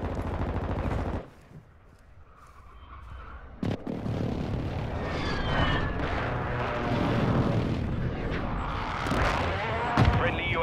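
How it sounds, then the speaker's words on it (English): Heavy explosions and gunfire roar across a team deathmatch video game battle as a friendly airstrike lands, with a deep impact thump, dense rattling fire and crashing blasts continuing loud and busy throughout. "Friendly airstrike on the way."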